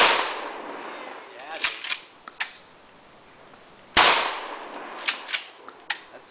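Two sharp gunshots fired at a target, spaced a few seconds apart, each a loud crack followed by a short ringing tail and faint echoes.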